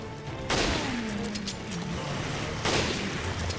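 Gunfire in the video game Resident Evil: Revelations: two loud booming shots about two seconds apart, each with a ringing tail, over a low game background.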